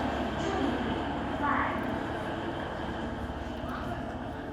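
A tiny train of the Alishan Forest Railway on its mountain line in Taiwan rumbles steadily at moderate distance, a low continuous rolling drone with faint metallic tones; a voice speaks briefly over it.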